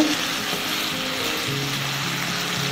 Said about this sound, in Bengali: নেড়ে চেড়ে আমি এর জলটা শুকিয়ে নেব।